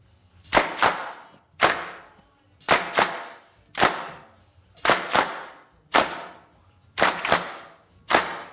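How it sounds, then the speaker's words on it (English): Layered clap samples in a Logic Pro music mix hit in a steady rhythmic pattern, about ten sharp, bright claps each with a short decaying tail, some in quick pairs, alone with no voices. "when you add all these claps up together, It works"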